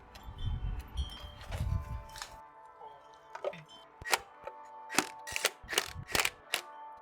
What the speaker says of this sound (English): Now you pump it full of grease.